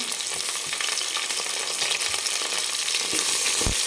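Slit green chilies and ginger-garlic paste sautéing in hot oil in a pan, a steady close sizzle with occasional stirring scrapes and a sharper clatter near the end, no voices.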